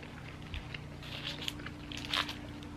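Quiet crunchy bites and chewing into crispy fried chicken, a few crisp crackles spaced over a couple of seconds, close up with no talking.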